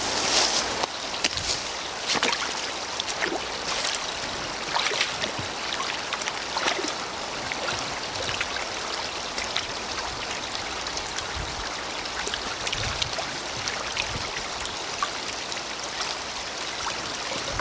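Waterproof leather boots wading back and forth through an ankle-deep outdoor stream, steady rushing and splashing water with scattered sloshes and drips, close and continuous.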